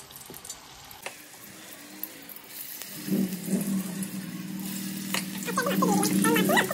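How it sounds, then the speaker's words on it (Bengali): Spiced mushrooms fry in hot white oil in a wok, a steady close sizzle that swells and crackles louder after a few seconds, with occasional clinks over it. "তেলটা একটু গরম হলে আগে থেকে মশলা মাখানো মাশরুমটা অল্প অল্প করে ভেজে তুলে নেব।"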